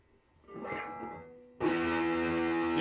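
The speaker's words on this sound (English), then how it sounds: "Now, we'll go over to some distortion. We'll play some chords for you as well." An EART TL-380 electric guitar plays through distortion: a softer note swells and fades, then a loud distorted chord strikes and rings out sustained, with no talking.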